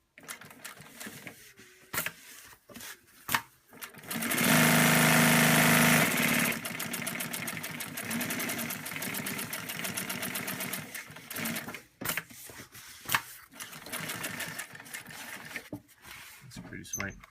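JUKI LU-1510N7 industrial sewing machine running at high speed in a fast, even mechanical whir, rising to a loud sustained burst early, then stitching in shorter runs while a person talks.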